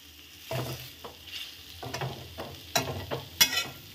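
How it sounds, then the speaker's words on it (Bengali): A spatula repeatedly scrapes through snake gourd frying with tomato sauce in a karai over a high gas flame. Brisk, close stirring strokes and metallic clinks ride over a light sizzle, and no one talks. "এবার ভালো করে নেড়ে নেব।"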